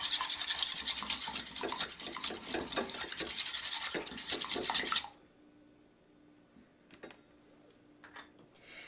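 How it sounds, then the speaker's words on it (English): Two eggs whisked briskly in a dish with a whisk, as breading for fried Gouda: a dense, rapid scraping-clatter close up for about five seconds, then it stops and only faint clinks remain. "Whisk those up."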